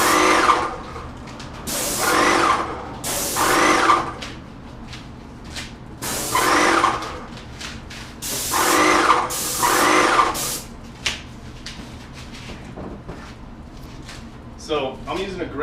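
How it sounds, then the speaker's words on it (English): A Graco X5 paint sprayer with a 515 tip sprays cabinet doors in bursts, each a loud hissing spray lasting about a second, repeated in pairs with short pauses. A voice speaks briefly near the end. "So I'm using a Graco X5 sprayer with a 515 tip."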